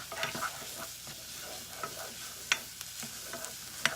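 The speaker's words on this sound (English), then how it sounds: "So I'm going to keep stirring" Onions fry in a pan for a rice dish, a faint, soft sizzle with light scrapes and clicks of a stirring spoon at irregular intervals, quiet and close.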